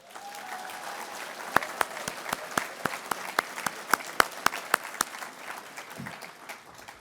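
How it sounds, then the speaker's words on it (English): A small awards-ceremony audience claps in a sparse, uneven run of distinct sharp hand claps over a quiet room, the claps loud and close, then thinning out toward the end. "Let's applaud these folks."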